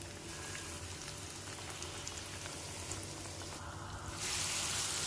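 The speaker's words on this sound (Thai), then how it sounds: "จากนั้นเราก็นำไปทอดค่ะ ทอดให้เหลืองกรอบเลยค่ะ" Batter-coated fish pieces deep frying in hot oil, a steady dense crackle and hiss that stays even throughout and swells louder near the end, with no voices.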